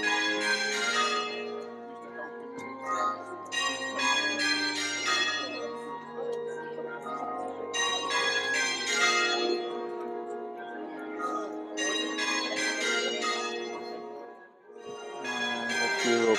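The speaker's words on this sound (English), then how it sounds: "Church bells ringing on a glorious day." Church bells peal in repeated rounds of loud, overlapping strikes outdoors at a funeral on a bright day, with faint crowd murmur beneath.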